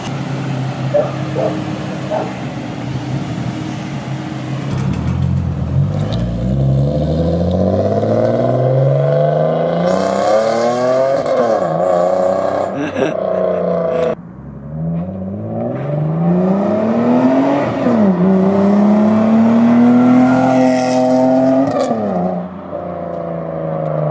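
A Lexus IS300 pulls away and revs, its engine pitch climbing repeatedly through gear changes over about twenty seconds, fairly near and loud, with a dog barking faintly at times.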